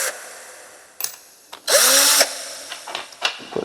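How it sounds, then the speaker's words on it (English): A brief burst of a power drill whirring while removing its drill bit, spinning up and winding down in about half a second, with clicks and handling noises around it. "Now I'm gonna take this drill bit off."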